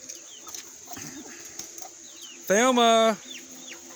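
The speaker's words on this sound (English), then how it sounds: "we're not gonna leave out our hard-working mother hen" A mother hen on a homestead lets out a loud, harmonic run of clucking squawks for about half a second, close by, after quieter background chatter and a spoken name.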